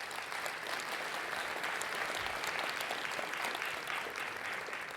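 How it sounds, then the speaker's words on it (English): Audience applause for the editors, steady clapping from a large crowd filling the room at an even level throughout with no break. "Please, everyone, give them a big round of applause."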